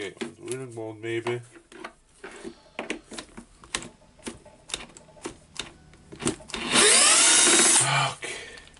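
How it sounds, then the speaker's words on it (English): Short bursts of a Bosch power drill whirring between pauses and clattering handling sounds while driving screws, ending with a longer, louder high-pitched drilling run; a voice talks briefly at the start. "now I'll try to do that with a drill"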